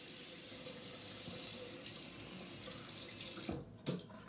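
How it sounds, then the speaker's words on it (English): Tap water runs steadily into a sink as the face is wetted before a wet shave, a continuous close hiss and splash with a brief splashing break near the end. "I'm gonna wet the face and let's get going."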